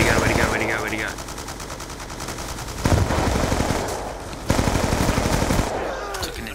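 Automatic rifle fire in a Call of Duty Black Ops II multiplayer match, with rapid sustained bursts emptying a magazine, a brief pause, then two more loud volleys under game effects and a short electronic warble at the start.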